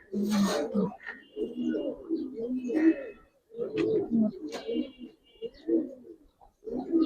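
Pigeons coo in low, throaty bursts through most of the clip, with several people talking over and between the calls.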